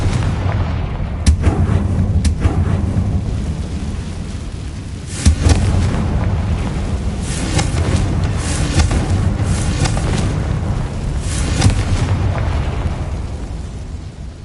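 Confringo blasting spell from a Harry Potter video game: a dense, loud rumble of repeated explosive bursts and booms, with sharp blasts standing out around the second, fifth and twelfth seconds over continuous noise.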